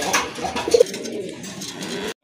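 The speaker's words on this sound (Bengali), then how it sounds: "যারা রাজগোল্লা কবুতর খুঁজছেন বা পছন্দ করেন বা পালতে চাচ্ছেন, তাদের জন্য ভালো মানের এক জোড়া কবুতর।" A pair of Rajgolla pigeons coo up close, giving soft, low, throaty calls over a busy background murmur.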